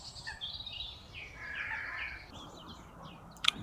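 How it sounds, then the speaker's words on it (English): Birds chirp and call at a distance at sunrise over a soft outdoor hum, with a few brighter notes and a short sharp call near the end. "Listen to the birds."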